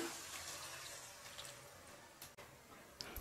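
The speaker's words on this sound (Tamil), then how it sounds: "இப்போ 1 கிளாஸ் அளவுக்கு தண்ணி ஆட் பண்ணிக்கங்கம்மா." Steady rushing of water being poured into a cooking pan, a continuous splashing hiss with a brief clink partway through, close by and without talk.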